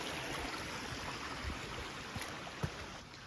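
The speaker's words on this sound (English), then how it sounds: "You can see here the water is flowing pretty well." A creek swollen by heavy rain rushes steadily in a broad, even wash of flowing water, with a couple of faint splashes near the end and no voices.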